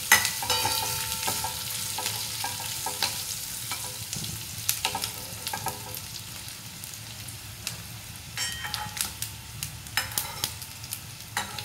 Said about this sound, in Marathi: दणदणीत कडकडीत अशी फोडणी तयार करायची